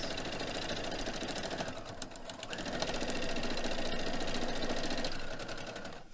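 A sewing machine runs steadily, stitching along the printed lines of a foundation paper piecing block for a tree quilt pattern, chain piecing with a leader-ender scrap; continuous close whirring with a slight shift in pitch midway.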